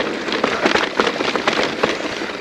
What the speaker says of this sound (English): It is really started to rain now.